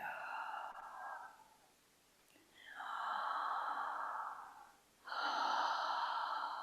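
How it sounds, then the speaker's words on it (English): Slow, deep breathing runs through two long, soft breath sounds separated by quiet gaps, close and hushed with no talking. "Deep, rich breathing. As soon as you inhale, immediately exhaling."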